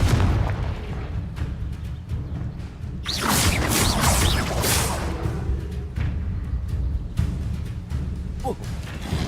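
Confringo blasting spell explosions in the Hogwarts Legacy video game, repeated sharp booms and whooshing bursts over a rumbling background, with one big roaring blast in the middle.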